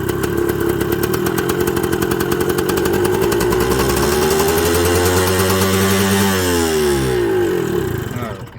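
A Suzuki TS125 two-stroke motorcycle engine runs with the choke off, buzzing loud and steady at a high idle, with the revs sliding down and wavering near the end before cutting off.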